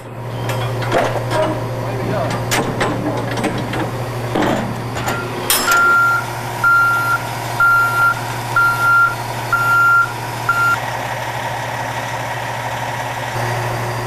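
A tractor unit reverses a container trailer, its reversing alarm giving a steady series of short evenly spaced beeps over a constant low engine idle drone, fairly close, with other faint clanks and background sounds before the beeping starts.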